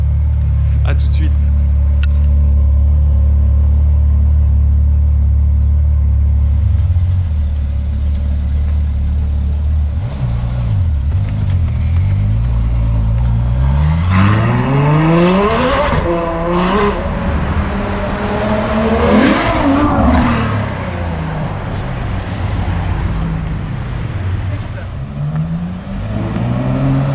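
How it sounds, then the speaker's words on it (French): A Ferrari 812 V12 engine idles with a deep rumble, then revs hard in repeated rising and falling bursts, loud and close, with voices talking over it. "Mon frère il me fait des dernières accélérations"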